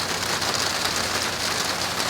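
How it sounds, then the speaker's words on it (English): Light rain sprinkles down steadily on a cloudy, cool, breezy day, a soft continuous patter with no voices. "and it's raining. Not a lot, but it's sprinkling down."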